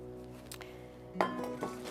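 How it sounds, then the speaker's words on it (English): Eggs are cracked against a bowl while making a peach crumble pie filling, two quiet close clinking knocks on the rim with soft sounds trailing after each. "So while the peaches are draining, you crack your 3 eggs together."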